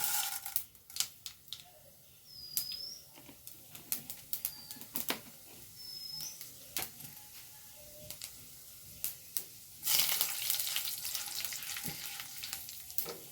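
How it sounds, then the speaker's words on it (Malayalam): Red lentils and mustard seeds frying in coconut oil, a quiet sizzle punctuated by sharp popping crackles and spoon taps, louder hissing near the end, while birds chirp and a dove coos faintly in the background. "ചുവന്ന പരിപ്പ് കൂടെ ഇട്ട് കൊടുക്കാം കേട്ടോ"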